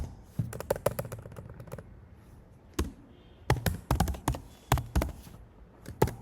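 Rapid bursts of keystrokes on a computer keyboard while Ruby code is entered, irregular clusters of clicky taps with short pauses between words, close and fairly loud, no talking.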